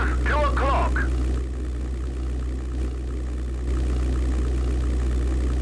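Low, steady engine roar of a fighter plane at full power in a European air war video game, droning continuously beneath a brief voice at the start.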